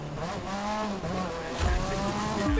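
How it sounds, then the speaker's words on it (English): A supercharged Mazda RX-3 drifts through curves in The Crew 2, its engine droning steadily with rising and falling pitch as the tires squeal through the slide, loud and close throughout. "Alright, here comes the drift"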